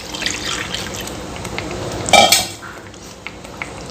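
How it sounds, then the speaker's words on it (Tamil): Reserved water from cooking chickpea flour is poured into a cooking pot of Rajasthani sabzi, making a brief splash with a metallic clank midway through a quiet kitchen. "கடலை மாவு வேக வைக்கும் போது எடுத்துருந்த தண்ணியை இப்போ உள்ளே சேர்த்துக்கலாங்க."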